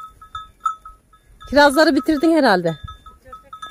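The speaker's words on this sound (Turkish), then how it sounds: "Nasıl yayılıyorlar bak koyunlar." Sheep in a village flock graze along a grassy roadside, with faint bleats and livestock sounds scattered through the clip while a nearby voice talks over them.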